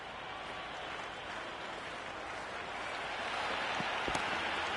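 Cricket crowd applauding a well-struck shot, a steady broadband wash of clapping from a distant stand that swells slightly toward the end.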